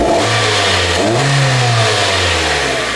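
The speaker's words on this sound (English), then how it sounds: "I'm gonna go rev it." A car engine revved during a mass airflow sensor test: the idle rises to a single throaty rev that climbs, holds and then eases back toward idle, loud and close, with no talking.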